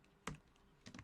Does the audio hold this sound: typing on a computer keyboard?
yes